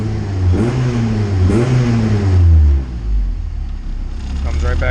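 A Honda CRX with a swapped-in F20B engine revs up, holds briefly, then falls smoothly back to a steady idle, loud and close.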